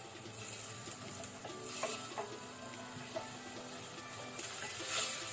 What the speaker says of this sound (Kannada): ಟೊಮ್ಯಾಟೊ ಸ್ವಲ್ಪ ಸಾಫ್ಟ್ ಆಗೋ ತನಕ ಫ್ರೈ ಮಾಡ್ಕೊಳ್ಳಿ